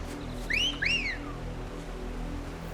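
A two-note wolf whistle from Final Fantasy XVI gameplay, a rising then falling pitch sweep repeated twice in quick succession, clear and fairly close over a low steady game background hum.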